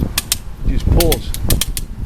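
A Maasdam rope puller ratchets as it draws a rope tight for tree work, with loud, close, sharp clicks in an irregular rhythm over a creaking, straining low rumble.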